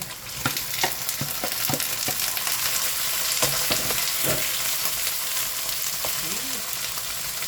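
Bitter gourd tossed into a hot pan of onion and garlic, sizzling loudly and steadily, with scattered stirring clacks and scrapes from a utensil on the pan.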